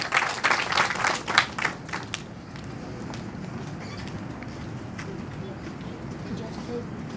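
Audience applause greets a woman introduced to recite lines honouring soldiers at a Sainik Samman ceremony, with a burst of loud clapping in the first two seconds that fades into a steady murmuring crowd.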